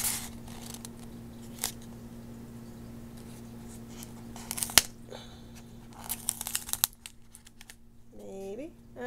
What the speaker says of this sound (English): Let me open that box here real quick.